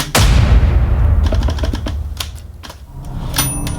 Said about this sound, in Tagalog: Tingnan mo yun, yung typewriter sa loob ng classroom natin.